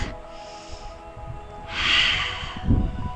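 A deep breath drawn in through the nose during a gentle stretching session, a rising airy hiss that swells and ends in a soft snort, close and alone.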